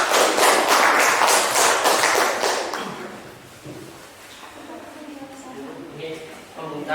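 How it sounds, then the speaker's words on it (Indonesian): A classroom of high school students bursts into loud clapping for a classmate; it fades out after about three seconds into quieter murmuring and talk. "Tepuk tangan untuk Mbak Yun."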